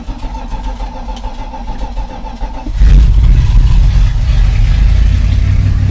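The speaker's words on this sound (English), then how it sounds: "So let's crank up the truck." A 1984 Dodge Ram truck engine cranks steadily for a few seconds, then catches and fires into a loud, rough running roar that holds close and strong.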